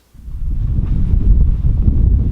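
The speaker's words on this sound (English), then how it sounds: "Unfortunately it's extremely windy tonight" Strong night wind at an outdoor shooting range buffets the microphone with a low, continuous rumbling roar and no voices.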